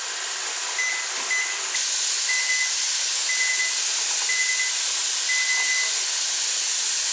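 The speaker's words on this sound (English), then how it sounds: "So now we're venting our pot for 10 minutes." A pressure canner venting steam on the stove while canning beef stroganoff, a loud steady hiss that jumps louder partway through, with faint repeated high whistling tones riding on top.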